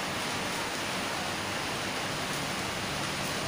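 Heavy rain falls steadily at an outdoor hollow-block-making site, a dense, even hiss of downpour with no gaps, loud and close, and no voices over it.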